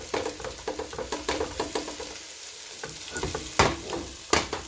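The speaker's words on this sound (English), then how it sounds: "Pushing it around back and forth because we want that to be nice and sauteed." Ropa vieja ingredients sautéed and pushed back and forth with a spatula in a pan: rhythmic close scraping strokes over a continuous sizzle, with a couple of louder knocks near the end.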